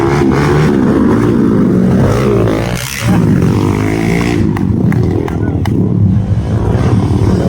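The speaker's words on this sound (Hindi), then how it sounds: "तो अब आ रहे हैं अपने बाइकर सारे भाई।" Motorbikes, including a Hero Xpulse, arriving at the Sajoba rally, with loud engine roar and revving sustained throughout, dense and close, with voices mixed into the noise.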